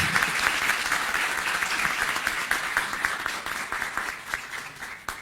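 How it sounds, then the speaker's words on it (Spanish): Audience applauding the panelists at a conference panel, a dense, fairly loud wash of many hands clapping that holds steady and then tapers slightly toward the end. "Pido un aplauso para todos nuestros panelistas."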